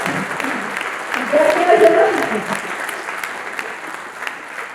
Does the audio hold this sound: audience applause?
yes